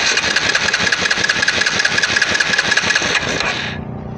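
A Yamaha Kodiak ATV engine fitted with a replacement carburetor runs with a loud, close, rhythmic chugging, then cuts out abruptly near the end.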